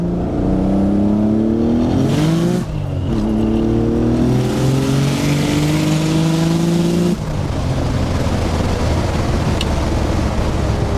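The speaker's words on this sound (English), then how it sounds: "That was a good third gear pull." A 900 hp turbocharged Nissan 300ZX accelerates hard in third gear, its loud, close engine rising in pitch over two sustained pulls with a short break between them, then settling into a rough, lower roar as the throttle eases.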